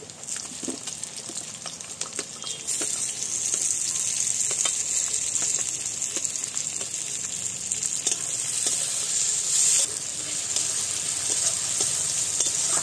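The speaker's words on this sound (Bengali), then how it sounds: "পেঁয়াজটা একটু নরম হয়ে এসছে, এবার দিয়ে দিচ্ছি টমেটো।" Onions and tomato frying in a pan for a village-style desi chicken curry, a steady, close sizzle that swells louder after a few seconds, with scattered scraping strokes as the mixture is stirred.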